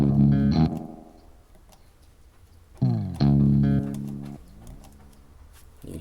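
Guitar run through a delay effect on a GarageBand pedalboard: two plucked notes or chords, each trailed by repeating echoes that fade out, loud and alone with no talking.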